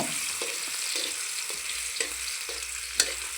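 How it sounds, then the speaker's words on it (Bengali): Ingredients for a spinach dish fry in a pan while being stirred, giving a steady sizzle broken by scraping strokes and a few sharp clinks of the utensil against the pan. "এখন এটাকে একটু হালকা লাল করে ভাজতে হবে"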